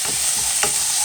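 Garlic and peppercorns frying in a pan, a steady close sizzle with a brief stirring scrape partway through; no voices.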